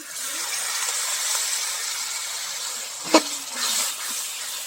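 A little water is poured into spice masala frying in a pan, giving a soft steady hiss and sizzle with one brief sharp splash midway and a gentle bubbling after it.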